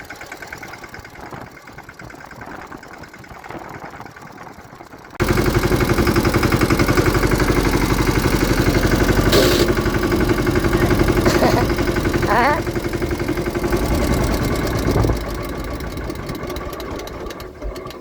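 A tractor engine idles with a steady, loud mechanical chug and vibration that starts abruptly partway through and continues evenly, with faint voices in the background.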